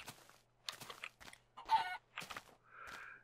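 A chicken in the Minecraft video game clucks in a quick run of short, close calls that ends in a longer drawn-out note.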